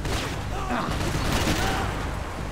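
Dense, continuous AK rifle gunfire in the Max Payne 3 video game, loud and unbroken throughout, layered with game action noise.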